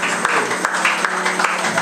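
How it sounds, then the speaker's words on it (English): A church congregation clapping hands in praise during worship, a brisk, steady burst of many hands under a warm hum of music, short and fairly close. "Let's give a hand clap of praise unto the Lord."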